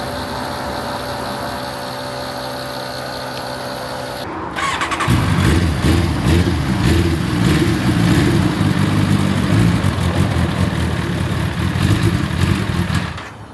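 A carbureted motorcycle engine idles steadily at first, then revs up into a louder, rougher and busier running note that holds for several seconds before easing off, close by with no talk.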